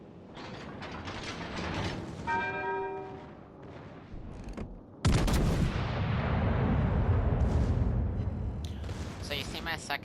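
Secondary weapons firing during a video game space battle: mechanical whirring and clicking with a ratchet-like buzz, followed by a sudden loud blast and sustained roaring fire, while a person talks over it.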